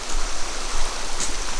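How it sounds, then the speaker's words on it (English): Floodwater rushes through a culvert below a hillside during flooding, a steady loud broadband roar of water with no pauses and no voices. "the amount of water coming through here."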